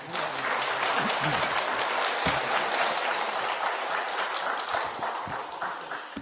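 Congregation members at a Korean church talk on forgiveness and reconciliation applaud as a pastor comes forward, a full, steady round of clapping heard close up that holds its strength throughout, with a few distinct louder claps.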